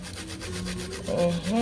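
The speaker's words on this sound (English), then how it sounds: "And then I have my nutmeg here. I grate some." Whole nutmeg is grated for plantain porridge, a quick rhythmic scraping rasp close by, with a brief voice-like sound near the end.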